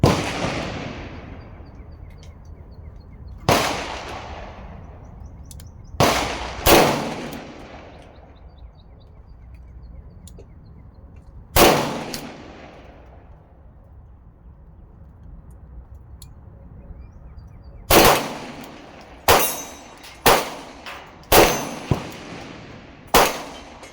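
A Colt Kodiak .44 Magnum fires about a dozen sharp, loud shots at targets outdoors, spaced irregularly and clustered in quick bursts near the end, each blast trailing off with a ringing decay.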